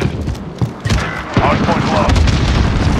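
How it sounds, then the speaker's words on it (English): Booming cluster strike explosions in a first-person shooter's hardpoint match rumble through dense game noise, with repeated low thuds and gunfire-like bursts under overlapping voices. "Allied cluster strike inbound."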